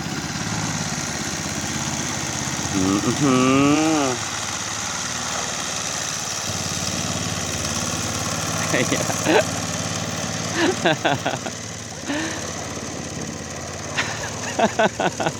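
A Honda 5 hp engine drives an 11-foot fiberglass boat, its steady drone continuous throughout with pitch swells, while voices talk over it intermittently.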